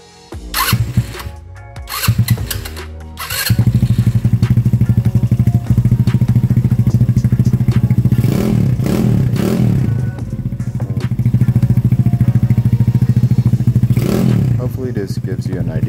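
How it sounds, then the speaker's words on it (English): A Chinese scooter engine fitted with a lighter-mass flywheel, heard up close: a few sharp blips at first, then a steady, loud buzzing run with quick rises and drops in revs, recorded alone without talk. "This gives you an idea of how much faster the engine revs on a lighter mass flywheel."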